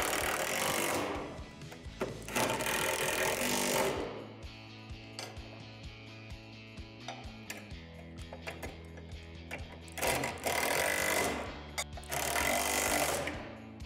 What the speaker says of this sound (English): Now go and tighten the rim housing hardware from the previous steps.